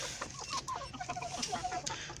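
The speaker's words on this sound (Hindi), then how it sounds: "ये देख लें माशाल्लाह से बहुत ही प्यारी वाइट मुर्गी है, डरती है काफ़ी" A white hen clucks in a cage on a home poultry setup, giving a run of short, soft clucks and calls close by over a steady low background, with no talking.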